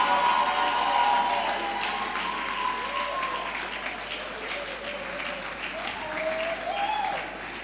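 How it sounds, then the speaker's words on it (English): An audience at a foundation's 20th anniversary event keeps clapping in steady, moderately loud applause while a voice speaks over it and rises above the noise at intervals. "Come on, keep clapping."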